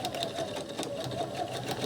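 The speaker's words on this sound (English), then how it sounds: "So now I'm going to sew them in place." Sewing machine stitching a washable sanitary pad, running in a steady, rapid rhythmic whir at close range and moderate volume, with no talking.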